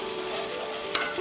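Spice paste with ginger-garlic paste sautéed in a pan for a chicken pulao, a steady low sizzle with a brief scrape of stirring near the end, close and fairly quiet.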